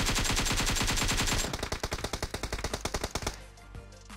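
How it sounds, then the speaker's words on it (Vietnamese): A teammate fires rapid automatic gunfire in the mobile shooter game PUBG Mobile, with a loud, fast burst that turns into a clipped rattling string of shots before stopping abruptly. "Đồng đội mình bắn à."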